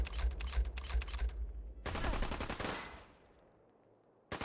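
Rapid automatic gunfire rattles in fast bursts during a Fallout 4 game, followed by a longer sustained volley that fades into quieter background noise before a final crack.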